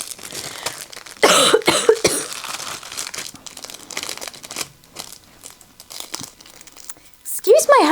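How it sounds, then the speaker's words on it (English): A couple of short, rough coughs stand out early, mixed with crinkling and rustling sounds, followed by quieter handling noise and a brief voice near the end. "I don't know where this cough has come from."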